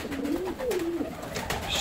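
Pigeons coo softly in a low, rolling rhythm, a couple of gentle warbling calls over a noisy, airy loft background.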